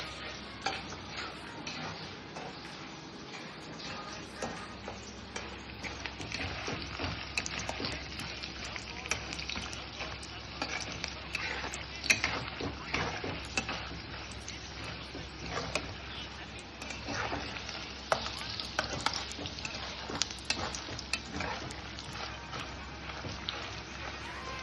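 Vegetables fry and get stirred in a pan of tempering oil with asafoetida for a South Indian curry, a steady close sizzle with repeated scraping stir strokes running throughout.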